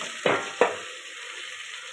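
Ground turmeric, chilli and spices sizzle and get stirred in a hot pan for a Bengali bhetki fish curry with potato and taro, with two sharp scraping stirs over a steady frying hiss.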